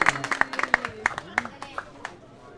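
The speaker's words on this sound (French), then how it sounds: "Vos applaudissements s'il vous plaît" Scattered claps ring out at an outdoor launch ceremony for a nautical club in Foundiougne, a series of sharp separate hand claps over a speaking voice, sparser and fading near the end.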